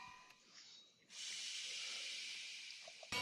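A steam hammer in modded Minecraft 1.7.10 lets out a sudden loud, continuous hiss of steam that holds steady for about two seconds, preceded by quieter clicks and ending with a sharp burst.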